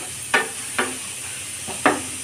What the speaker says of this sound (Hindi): देखिए हमारा आलू अच्छे से फ्राई हो गया है, देखिए गोल्डन कलर का हो गया है,